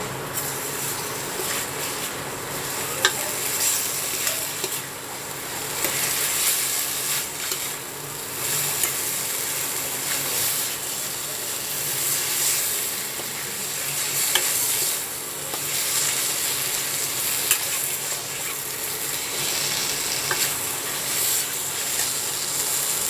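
Dry-style potatoes being stir-fried in a pan, a continuous close sizzle with steady scraping and stirring strokes that swell and ease over a long stretch.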